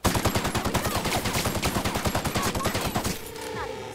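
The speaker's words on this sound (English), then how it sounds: "I have a heavy rifle." A heavy rifle in The Outer Worlds fires a rapid, steady burst of about thirty loud, closely spaced shots over three seconds, then stops abruptly and leaves a quieter ambient tail.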